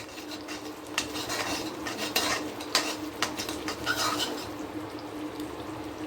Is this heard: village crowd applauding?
no